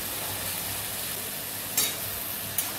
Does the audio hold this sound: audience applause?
no